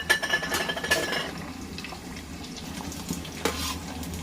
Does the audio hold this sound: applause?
no